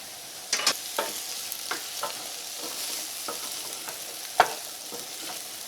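Large-cut onion and capsicum fry in a pan for chili chicken, making a soft continuous sizzle broken by sharp scrapes and clacks of a spatula stirring, close and alone without talk.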